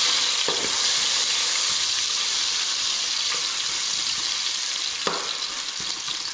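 Ginger sautéing in a pan, with a steady sizzling hiss and occasional clinks of a utensil stirring, close and continuous with no voices.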